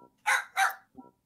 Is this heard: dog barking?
yes